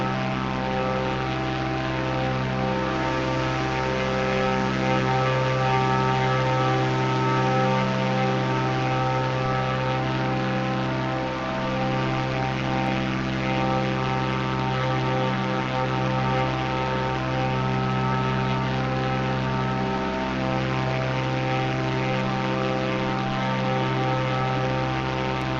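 Propeller airplane engine droning steadily in a flight simulator game, a loud, continuous hum with stable tonal harmonics over a slow, low flight across open landscape, no voices.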